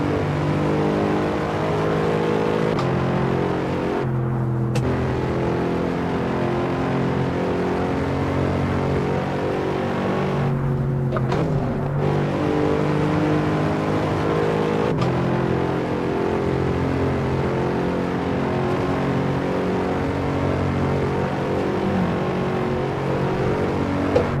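Race car engine in Assetto Corsa, loud and continuous throughout, with steady revving and shifting pitch as it accelerates, and a few brief drops during gear changes.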